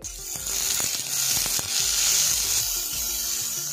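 Chopped vegetables with salt being stirred in a hot cooking pan, a steady close sizzle with scattered scraping and tapping of the spatula throughout.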